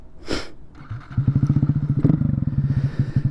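A 2022 Honda Grom with an aftermarket exhaust and air intake pulls away, its small single-cylinder engine thumping in a fast, steady pulse that builds loud and close after a brief bump and clatter at the start.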